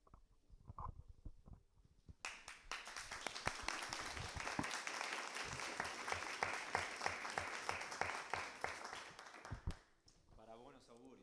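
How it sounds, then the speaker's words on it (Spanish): An audience at the start of a talk on geopolitics and environment breaks into sustained applause lasting several seconds, with speech briefly before and after it. "Es bueno empezar con unos aplausos."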